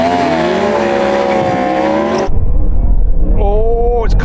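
A Porsche Taycan Turbo GT launches against a Ferrari SF90 in a drag race, a loud sustained whine of a fast-accelerating car that cuts off abruptly into heavy rumbling wind noise, with a rising tone returning near the end.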